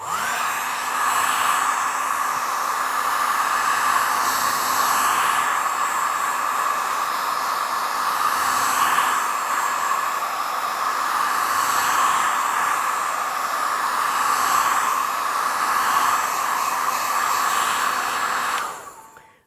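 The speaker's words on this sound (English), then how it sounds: "I'm going to let that dry for now. So hairdryer again" A hair dryer blows steadily on watercolour paint at a penguin painting board, a loud continuous whooshing roar that runs unbroken for nearly twenty seconds before cutting off.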